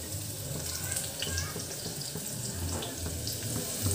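Tap water runs steadily over lentils being washed in a sink, a continuous close splashing hiss with small dripping and clattering accents throughout.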